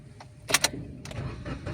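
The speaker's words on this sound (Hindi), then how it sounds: "ब्रेक प्रेस करके ही हमने गाड़ी को स्टार्ट लेना होता है" A car is started during a driving lesson: two quick clicks, then the engine catches and settles into a low idle hum nearby inside the cabin.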